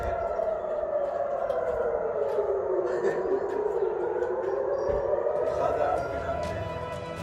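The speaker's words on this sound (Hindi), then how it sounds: "यरूशलेम में आफत के सायरन बजने के बाद किस तरह अफरा तफरी मची है" A loud, wailing air raid siren in Jerusalem rising and falling in pitch, sustained throughout and sounding from a distance across open space.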